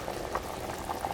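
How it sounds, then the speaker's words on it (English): A pot of pasta e fagioli soup boils steadily, a close, even bubbling and gurgling with small pops, with no voices. "Now that our soup is boiling"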